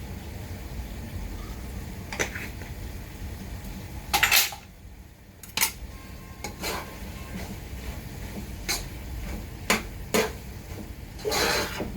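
A spoon stirs chicken bopis in a pan, scraping and clinking against the metal in scattered strokes over a steady low sizzle, with no talking.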